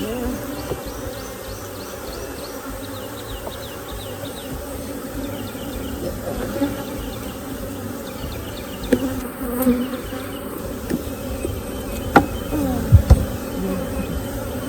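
Honeybees hum densely around an open beehive during a hive inspection, a steady close swarm buzz with individual bees zipping past near the ear and occasional handling knocks.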